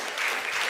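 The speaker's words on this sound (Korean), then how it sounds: "감사의 마음 담아서 박수 부탁드립니다" A church congregation breaks into applause during a worship service, a short, dense burst of clapping from many hands filling the room.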